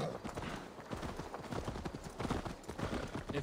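Horse hooves clip-clop at a steady riding gait in Assassin's Creed Valhalla, a continuous close rhythmic beat with no talk over it.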